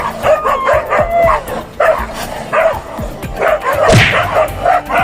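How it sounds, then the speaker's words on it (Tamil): Dogs bark and yip in an audio drama, a rapid, fairly loud run of overlapping barks set against background music and effects. "உன் விந்தை நாய்களின் வேகத்தை பார் நைசாரித்."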